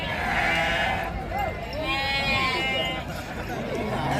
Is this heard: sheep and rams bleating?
yes